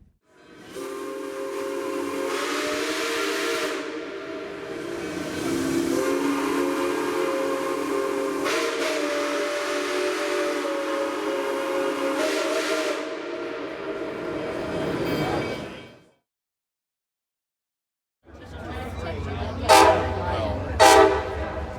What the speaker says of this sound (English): Berkshire-type steam locomotive that ran on Metro's Rock Island route